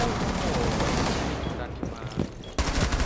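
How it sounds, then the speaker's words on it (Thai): Rapid bursts of gunfire from the tactical shooter game Rainbow Six Siege, dense and loud through the whole stretch, with a sharp fresh volley near the end and voices mixed in. "กูยิงปืนกูยิงโดน"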